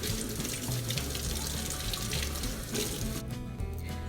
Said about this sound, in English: you're going to want to wash your potatoes